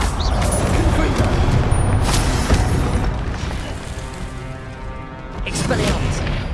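A Confringo blast spell in Hogwarts Legacy bursts amid combat, with booming pops and mechanical clatter layered over speech and steady game noise.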